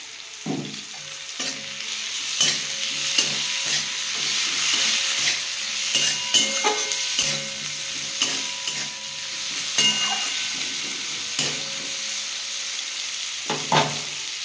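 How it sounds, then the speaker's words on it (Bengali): Fried onion and tomato sizzle loudly in a pan for mustard greens, a continuous close crackle punctuated by repeated sharp stirring scrapes and clanks, with no talking. "আমার পেঁয়াজটা ভাজা হয়ে গেছে। আমি এই মুহূর্তে একটু টমেটো দিয়ে দেবো।"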